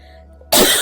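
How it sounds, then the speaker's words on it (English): A single sharp, loud cough bursts out after a half-second of near silence, part of a coughing fit. "I have a coughing fit."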